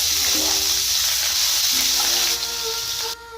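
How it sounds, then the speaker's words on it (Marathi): Cumin seeds and onion hit hot oil in a kadhai on a gas stove, giving a steady, loud, close hiss of frying with faint clinks and no voices. "तेल गरम झालेलं आहे थोडं जिरे टाकत आहे कांदा"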